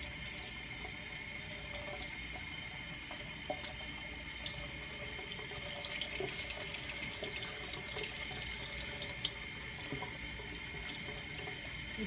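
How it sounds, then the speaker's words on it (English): Tap water runs steadily from a kitchen faucet through eggplant pieces spread out to rinse away dirt and sand, a continuous close splashing hiss with small drips and clinks over about twelve seconds. "run water through this to get the dirt out"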